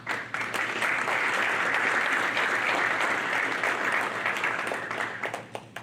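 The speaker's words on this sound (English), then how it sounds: "we would like to recognize them with our applause." Sustained audience applause fills a graduation ceremony hall, steady and dense with the clapping of many hands, rising quickly and holding at an even level before thinning toward the end.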